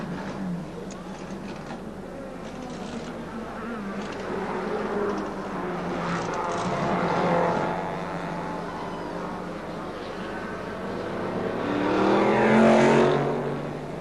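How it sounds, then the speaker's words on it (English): Mercedes Silver Arrows racing cars at Donington Park drone steadily throughout, swelling louder as cars pass by, with a rising engine whine near the end. "And 3 Mercedes led the race in procession, von Brauchitsch from Seaman and Caracciola."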